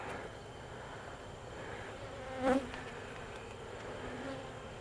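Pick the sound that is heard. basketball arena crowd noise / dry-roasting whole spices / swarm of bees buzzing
swarm of bees buzzing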